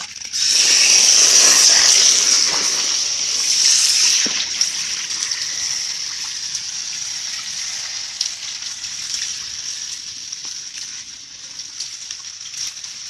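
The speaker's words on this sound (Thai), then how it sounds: "จะปล่อยน้ำเข้านะฮะ" Water rushes into a canvas fish pond holding two-month-old Chumphon 1 climbing perch. A loud, bright gushing at first settles into a softer, steady trickle with faint splashes and no voices.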